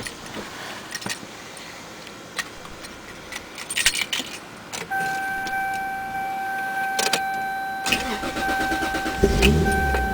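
A 1994 Toyota Supra with a single-turbo conversion is started inside the car, with keys jangling first, then the starter cranking and the engine catching into a steady idle, along with a faint electronic chime and mechanical clicks.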